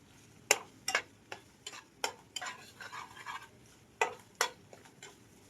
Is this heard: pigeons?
no